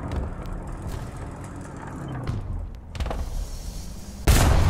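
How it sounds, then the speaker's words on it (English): Tank in the War Thunder video game: steady low mechanical rumble with rattling tracks and engine, a few sharp bursts, and a loud blast near the end. "That sounds like a... Oh, that's a tank in front."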